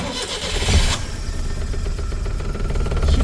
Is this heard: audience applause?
no